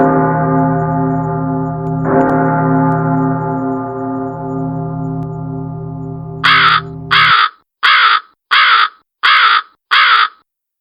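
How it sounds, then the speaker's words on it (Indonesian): A crow caws six times in a steady, evenly spaced series, loud and close, after a long, low, droning bell-like tone fades out. "Suara burung itu mengejutkan mereka berdua."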